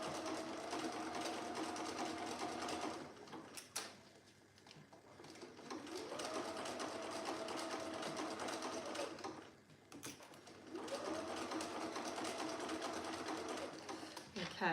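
A sewing machine stitches dress fabric in three long steady whirring runs, close and loud, with short pauses between runs while a person talks quietly.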